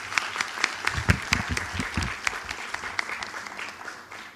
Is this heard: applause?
yes